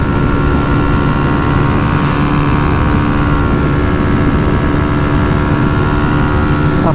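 A 125cc single-cylinder motorcycle engine runs continuously at close range, steady and droning, with a constant buzzing hum and no pauses or speech.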